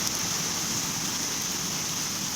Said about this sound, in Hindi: वरना तो पूरा ही बारिश है।